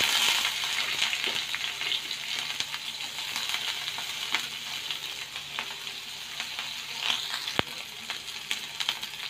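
Onions sizzle in hot oil with cumin seeds in a pan for an eggplant curry, a steady crackling hiss broken by small pops and occasional spoon clinks, close and moderately loud.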